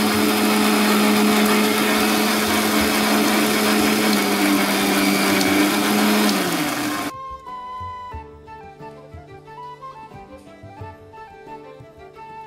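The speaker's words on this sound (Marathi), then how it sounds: "आपला मसाला वाटून घेतलेला आहे बघा मिक्सरमधून." A kitchen mixer grinder whirs loud and steady as it grinds a spice masala for village-style chicken, its motor pitch sagging and winding down after about seven seconds, then quieter clinks and settling sounds follow.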